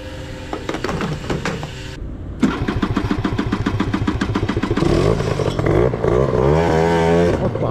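A 2000 Italjet Dragster two-stroke scooter cranks and catches, then runs close and loud with a rattly, buzzing idle and small throttle blips. No one speaks.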